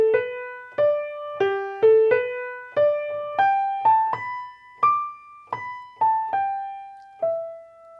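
A piano plays a melody alone as single notes, clear and close, each struck note decaying before the next in an unhurried waltz pace.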